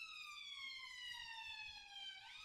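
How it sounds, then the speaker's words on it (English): An ambulance siren wails in London traffic at Shepherd's Bush, a steady mid-distance tone sliding slowly downward over a low rumble of vehicles, with no voices. "The ambulance can't get through the traffic."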